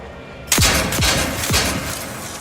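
Three loud, close gunshots ring out in The Outer Worlds 2, evenly spaced about half a second apart, each with a sharp crack and a trailing echo, with no voices.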